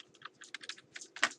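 Fingers type on a computer keyboard in a short, quiet burst of about a dozen light, uneven clicks.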